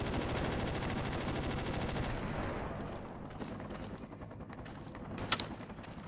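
Sustained automatic gunfire in the tactical shooter Project Reality during a jungle squad fight, a dense, loud rattling stream that fades into scattered distant shots.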